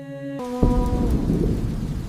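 A low rumble of thunder rolls in over steady rain, following a sustained tonal sound that fades out early.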